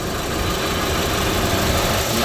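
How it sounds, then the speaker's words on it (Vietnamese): A 2004 Mitsubishi Jolie with a 2.0-litre turbocharged engine and a five-speed manual gearbox idles with a steady, even hum that stays close and constant throughout, with no voices. "Máy nổ siêu êm."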